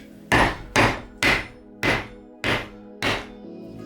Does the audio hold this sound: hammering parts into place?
yes